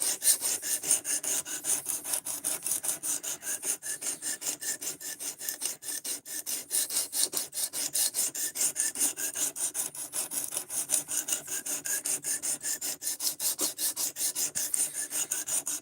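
Knife blade drawn repeatedly across a stone on a guided sharpening system, a close, steady rasping scrape in even back-and-forth strokes that continues throughout with no voices.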